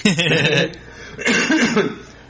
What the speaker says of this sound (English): There's going to be coughing